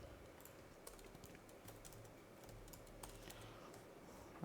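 Steady typing on a computer keyboard while entering commands, a quiet, close, continuous patter of key presses over a low background hum for about four seconds, with no talking.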